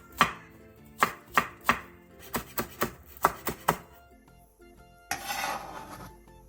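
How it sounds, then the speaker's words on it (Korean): Knife chopping Cheongyang green and red chili peppers and green onion on a board: a string of crisp, close, evenly paced cuts, followed by a short scraping rub, with no talking. "청양고추 2개, 청양홍고추 1개, 대파 2분의 1개를 어슷썰게 해주세요"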